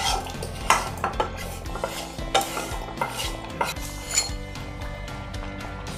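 Tempering is stirred into a Thanjavur-style eggplant and mango dhalcha in a pot, with repeated clanks and scrapes of a spoon against metal over a faint sizzle and a hum in the background.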